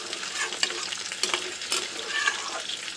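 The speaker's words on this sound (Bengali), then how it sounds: "আর এদিকে দেখো মাছ ভাজাটা করছি।" Hilsa fish frying in a pan, a dense, close crackling sizzle with bursts of spattering and stirring strokes throughout, no voices.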